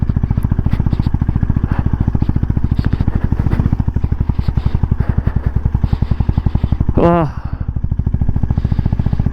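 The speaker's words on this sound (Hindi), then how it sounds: "यहाँ देखो फंसेगी बाइक।" A Honda Highness motorcycle engine thumps loudly and rhythmically at close range as the bike works through mud on a dirt track in Ladakh, the steady pulsing broken near the end by a short rising whine.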